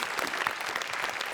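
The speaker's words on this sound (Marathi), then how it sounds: "जोरदार टाळ्या." Dense, steady applause from a studio audience at a Marathi comedy show, many hands clapping together at an even, full level with no gaps.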